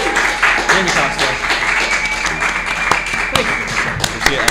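An audience at a live comedy tribute show applauds its guests, with steady clapping and a few sharper claps, while people talk over it.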